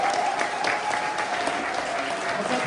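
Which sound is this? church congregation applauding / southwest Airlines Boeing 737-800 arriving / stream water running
church congregation applauding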